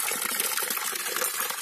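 Water falls at a scenic tourist spot in Dhanpuri, Shahdol district, making a steady bright splashing rush that stays close and continuous, with no voices.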